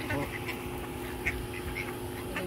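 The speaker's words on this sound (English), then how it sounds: "we got all kinds of like little teenage ducks in there" Ducks quacking at a park pond, scattered soft quacks from several birds at a moderate distance amid outdoor background noise.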